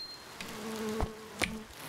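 A bee buzzes in the video game Cattails: Wildwood Story, a steady insect drone with a couple of brief clicks from the game over a soft background, and no one talking.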